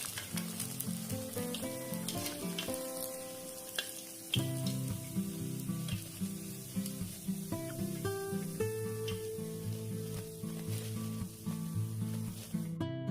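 Tofu fritters deep frying in hot oil, a steady sizzle running continuously beneath louder melodic background music, with no talking.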